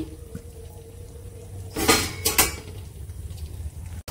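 A spoon clatters and scrapes against a pot of mutton and potato curry in a few quick metallic knocks midway, close and bright over a quiet kitchen background.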